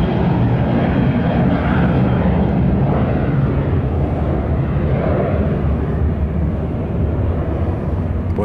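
A fixed-wing airplane departing Tampa airport gives a loud, steady broadband roar that holds evenly throughout, with no voices over it.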